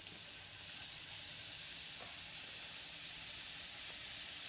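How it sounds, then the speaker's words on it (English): Butter and a portobello mushroom cap cook over low heat in a cast iron skillet, producing a steady, soft, hissing sizzle that holds evenly throughout with no talk. "We just want to sweat these mushrooms."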